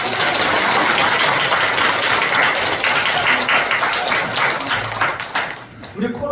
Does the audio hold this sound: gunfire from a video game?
no